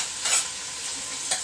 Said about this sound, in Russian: Так, высыпаю я лук.